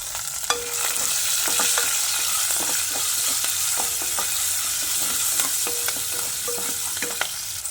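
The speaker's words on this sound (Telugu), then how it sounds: "మంచిగా వేయించుకోవాలి." Tempering of urad dal and dried red chillies frying in a pan of hot oil, with a steady close sizzle broken by repeated sharp scraping and stirring clicks from a spoon against the pan.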